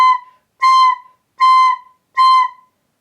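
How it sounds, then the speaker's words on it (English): Four short, separated recorder notes on the same pitch, each breath cut off between them so the tone sounds choppy and halting instead of flowing, clear and close. "If we don't use a continuous airstream, this is what we might sound like."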